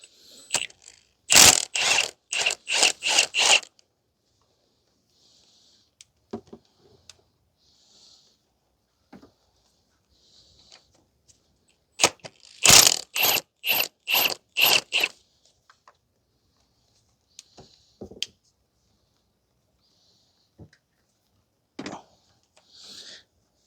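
Ratchet on 17 mm engine mount nuts and bolts of a 2006 Mazda 3 2.0 gives two bursts of rapid, close, crisp clicking, with scattered single clicks and quiet pauses between.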